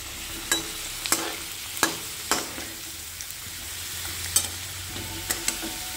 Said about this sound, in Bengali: তো চলো তাহলে ভালো করে আলুটা এখন তোমরা উল্টে পাল্টে খুব ভালো করে এরকম কালার ধরে ভেজে নেবে।